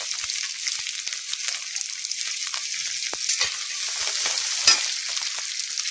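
Chopped onion frying in hot mustard oil, a steady bright sizzle with occasional crackles and pops, close and continuous with no voices.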